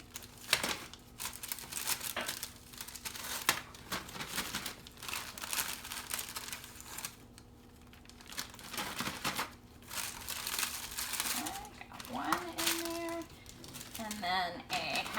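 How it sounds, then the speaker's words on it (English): Plastic bag crinkling and rustling as a full sleeve of graham crackers is slid inside, with bursts of crackle throughout and a person speaking intermittently nearby. "you're going to take one full sleeve of graham crackers and pop these in the bag"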